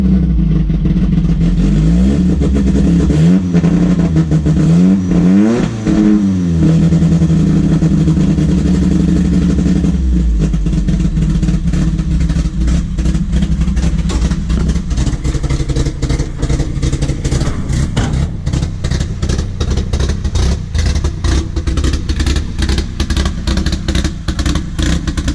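Vandalised car's engine turning over and catching, then revving unevenly with rising and falling pitch before settling into a rough, loud idle, close by with no talk.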